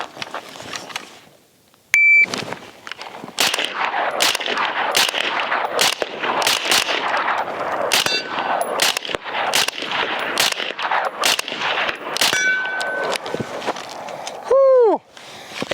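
Rapid semi-automatic gunfire from a Springfield Armory Hellion bullpup rifle fired while moving toward steel targets, a dozen or so sharp loud cracks in irregular bursts, with a ringing steel ping near the end.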